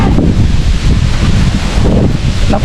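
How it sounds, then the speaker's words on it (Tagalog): Steady wind blowing outdoors near a house with a river and mango trees, a loud continuous rush buffeting the microphone with rustling leaves and no talking. "Sarap ng hangin."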